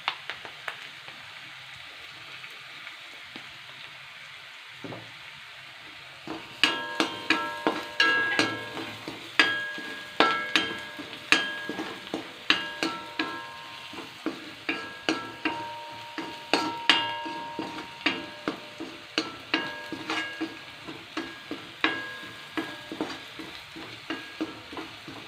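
Onions frying in a pan under a steady sizzle, with brisk repeated scraping and tapping of the spoon against the pan once stirring begins, the rhythmic clatter continuing to the end.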